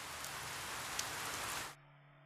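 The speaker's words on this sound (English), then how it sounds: "nothing will make the sound of the rain stop." Steady rain in the video game 428: Shibuya Scramble pours down as a dense, even hiss with a few drop taps, then cuts off abruptly, leaving a faint low hum.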